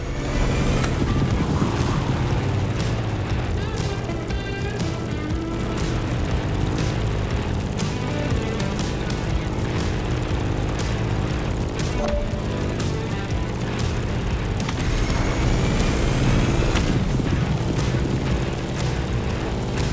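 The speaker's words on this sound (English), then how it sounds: "In the cockpit of a stunning Grumman F8F Bearcat" A Grumman F8F Bearcat propeller fighter engine in the video game The Crew Motorfest drones loudly and continuously, with a rough, steady roar and shifting pitch as the plane flies past.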